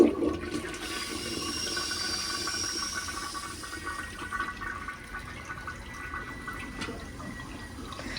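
A toilet in a rotten old trailer being rebuilt flushes with a steady rushing hiss of water that stays even and fairly loud throughout, with no talking.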